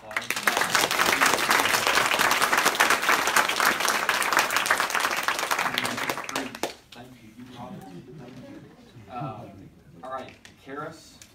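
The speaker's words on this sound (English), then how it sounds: "Abby, you can give her a round of applause" An audience applauds at a Texas public hearing on an abortion bill, loud sustained clapping for about six seconds that stops abruptly, followed by quieter talking.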